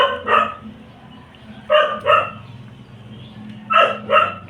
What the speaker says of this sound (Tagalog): napakaingay ng aso